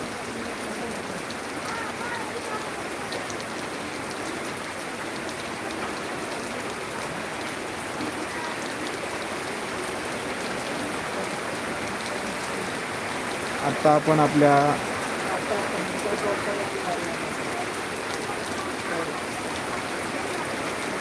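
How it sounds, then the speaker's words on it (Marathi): Live rain pours steadily onto an eggplant farm, a dense, even hiss throughout with a brief louder patch of nearby activity midway; someone speaks briefly over it. "अजून जास्त पाऊस वाढलेला आहे"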